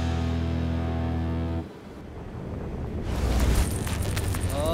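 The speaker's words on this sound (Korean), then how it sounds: "아, 또 바람 많이 분다." Strong wind roars around a winter squid-fishing boat off Tongyeong, a loud broadband rush with buffeting against the microphone that dips briefly, then swells louder with hissing gusts.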